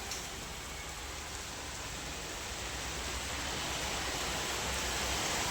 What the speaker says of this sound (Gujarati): વરસાદ ચાલુ થઈ ગયો છે, ફૂલ મસ્ત મજાનો.